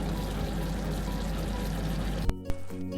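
Mashed fried onion tipped into a pot of chicken korma, a steady sizzling, bubbling wash that ends with two sharp spoon knocks, then quieter cooking noise.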